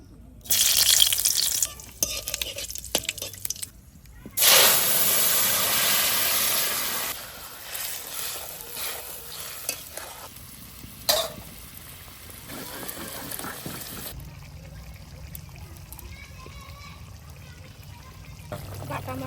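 Cumin and dried red chilies are fried in hot oil for tempering, starting with loud bursts of sizzling that settle into a softer, continuous crackle, with voices heard at times.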